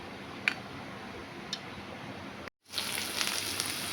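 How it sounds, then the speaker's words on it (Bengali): Onions hit a hot pan for Bengali egg curry (dimer kalia). After a few faint ticks and a brief silence, a loud, dense sizzle starts and holds steady. "পেঁয়াজ দিয়ে ভাজবো, পেঁয়াজটা দিয়ে ভালো করে ভাজবো প্রথমে।"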